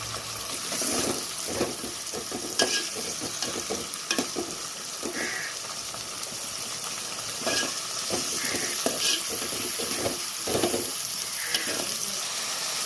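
Ripe tomatoes fry in a pan for a fish curry, a close, loud sizzle broken by repeated stirring scrapes and clatters at an uneven rhythm.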